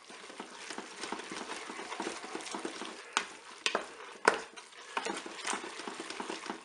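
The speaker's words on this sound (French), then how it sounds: "On mélange à nouveau." A spoon stirs a creamy Boursin mixture inside a Cookeo pot, soft scraping and gentle clicking strokes repeating steadily with a couple of sharper knocks against the pot.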